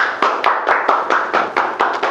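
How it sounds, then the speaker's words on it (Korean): Applause during a comedy reaction lecture, about ten fairly loud claps in a quick uneven rhythm, close and crisp, sounding like only a few people clapping in unison. "여러분 박수 한번 줄까요?"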